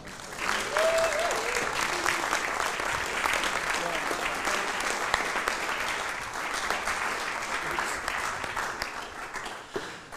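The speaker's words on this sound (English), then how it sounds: "Jon took the long walk around there to milk the applause, which was plenty and fulsome and deserved" A live audience at a golf podcast event in Dubai gives Jon Rahm sustained, loud applause that continues steadily, with voices faintly audible underneath.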